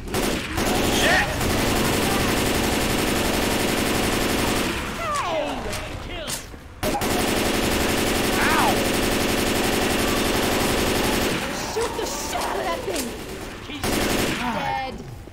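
Sustained automatic gunfire from Left 4 Dead 2, loud and continuous bursts that break off briefly and resume, with players talking over the shooting.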